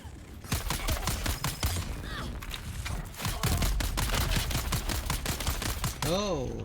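Sustained automatic gunfire from an enemy machine gun in the game Dune: Awakening, dense rapid bursts packed under other in-game noise, with a rising-falling whine near the end.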